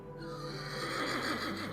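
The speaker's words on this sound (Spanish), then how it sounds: "Hubo un día en el que Filoneico de Tesalia llevó a Filipo un caballo llamado Bucéfalo, que ofreció venderle por 13 talentos." A horse neighs in a steady, moderately faint whinny that rises and wavers over a continuous background, with no talking.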